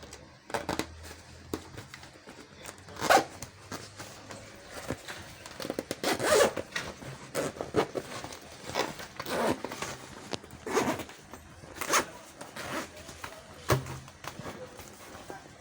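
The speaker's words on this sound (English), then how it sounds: "So let's zip it back and see what it looks like before we start trimming." Zipper being pulled closed on a handmade sewn fabric lunch bag: several short, rasping zips in bursts, close to the microphone, with handling rustles between them.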